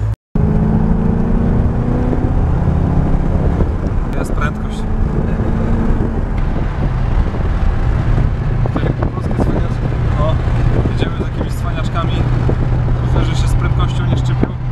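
Hitchhiking ride in Australia heard from inside a car, with a steady low engine and road drone running throughout, fairly loud, while people talk and laugh over it.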